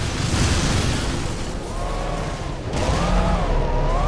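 Repeated bomb explosions in the video game Tron: Evolution, a dense, loud rumbling barrage of booms running together with electronic tones rising over the noise toward the end.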